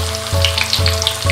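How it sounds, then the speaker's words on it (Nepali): Eggplant and potato fry in a pan with a loud, steady, close sizzle, a faint low hum underneath, and slight shifts in the crackle every half second or so. "ब्राउन र क्रिस्पी हुने बेलासम्म फ्राई गर्नुपर्छ।"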